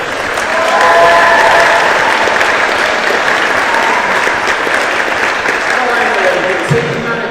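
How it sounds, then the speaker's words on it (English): A crowd at a school wheelchair tennis event gives sustained, loud applause that holds steady for several seconds before tapering slightly. "Big round of applause"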